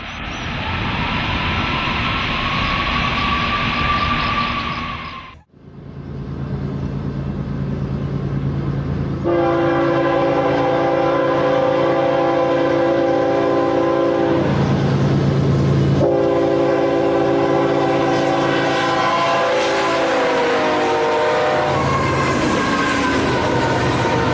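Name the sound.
long freight train hauling oil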